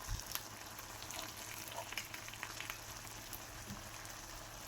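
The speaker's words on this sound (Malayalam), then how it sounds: "മീൻ ഇവിടെ ഫ്രൈ ആയി വന്നിട്ടുണ്ട്." Stingray fish fries Kerala style in a pan over a low flame, a steady, soft, crackling sizzle with small pops that holds evenly throughout, close and fairly quiet, with no talking.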